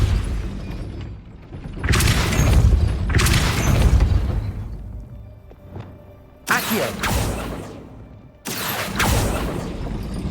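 Depulso spell casts in Hogwarts Legacy land as several heavy whooshing blasts with rumbling booms. The loud bursts are separated by quieter gaps, and no voices are heard.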